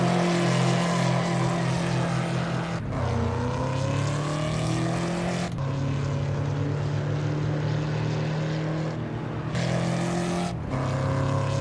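A Ford Mustang SVT Cobra engine roars loud and close through hard acceleration from a standstill to 60, its pitch climbing steadily before dropping sharply at each of three gear shifts and climbing again, with no talking.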